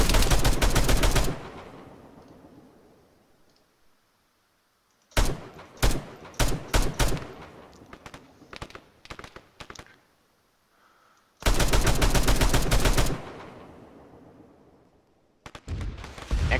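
Machine gun fire in the video game Arma, loud sustained bursts near the start, middle and end, with choppy single shots and short volleys between them and quiet gaps where echoes fade.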